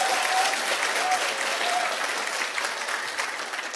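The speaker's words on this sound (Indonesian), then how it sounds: "tepuk tangan dong gitu" A seminar audience at a business talk gives a short burst of steady clapping, dense and fairly even, easing slightly toward the end.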